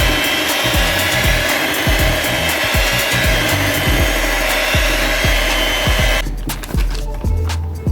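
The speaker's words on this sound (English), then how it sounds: "Use a handheld mixer to mix evenly." A handheld electric mixer beating a coconut cream cheese dessert mixture, a steady loud whirring drone with rhythmic scraping ticks as the beaters work, cutting to a quieter tone near the end.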